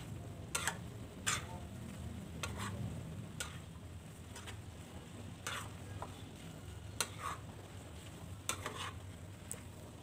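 Cassava leaves stir-fried with tempeh, anchovies and coconut in a pan, heard as faint, close scrapes and clicks of a spatula at irregular intervals over a soft, steady sizzle.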